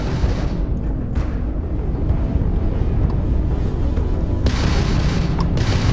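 A Crimson Fleet pirate ship fires its weapons during space combat in Starfield, heavy booming blasts layered over a loud, steady rumble with sharp bursts near the start and end.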